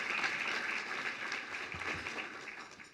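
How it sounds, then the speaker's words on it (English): An audience at a housing awards luncheon applauds, many hands clapping together in a dense, steady wash that slowly fades over three seconds. The sound is moderately close and no one speaks over it. "Yeah, y'all can clap for that too."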